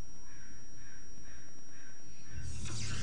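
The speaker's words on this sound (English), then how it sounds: "A lot of birds are flying by my window" A crow caws repeatedly outside a window, a few evenly spaced calls at moderate distance, followed by a louder, harsher burst near the end.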